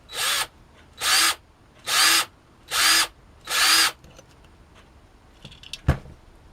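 Five even, evenly spaced bursts from a drill with a 3.5mm HSS bit, gently drilling out the rivet on a Hot Wheels Ferrari 308 GTB die-cast car, each about half a second long and close up, followed by faint clicks and a tap.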